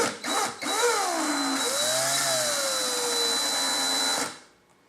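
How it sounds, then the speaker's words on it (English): An electric drill runs in reverse to twist coil wire, spinning up with a couple of quick bursts, then holding a steady close whine that slides in pitch before stopping abruptly. "I'm going to hit the drill in reverse now."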